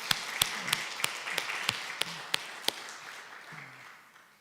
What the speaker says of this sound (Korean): 우리 격려의 박수, 감사의 박수 한번 치도록 하겠습니다.